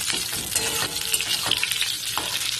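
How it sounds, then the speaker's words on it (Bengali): Oil sizzles steadily as pointed gourd pieces fry in a pan, with a few soft scraping stirs over the crackle, close and fairly loud. "পটলগুলো ভেজে নিচ্ছে"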